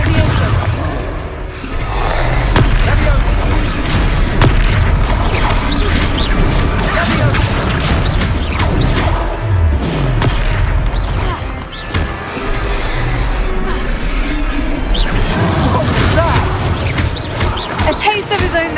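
Confringo fire spells burst in Hogwarts Legacy combat: repeated loud explosive crashes and whooshes over constant battle noise, with spoken spell incantations and dialogue mixed in.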